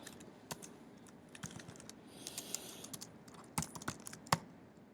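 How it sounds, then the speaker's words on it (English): Quiet, irregular keystrokes on a computer keyboard with a few sharper clicks near the end, heard alone against a faint room hiss. "Okay, just typing it wrong."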